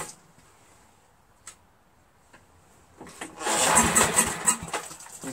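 A Briggs & Stratton 11 HP engine on a 5000-watt generator cranks and catches after about three seconds of near quiet with a few faint clicks. Once running it gives a loud, rough, sputtering roar up close.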